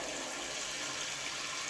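Cold water runs steadily from a tap into a sink, a continuous hiss and splash without pause.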